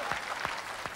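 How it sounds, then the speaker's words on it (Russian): A television game show studio audience, from a Russian melody-guessing quiz, breaks into applause, a fast, even patter of clapping that is fairly quiet and carries on throughout the brief moment. "Аплодисменты Сергею Жиганову."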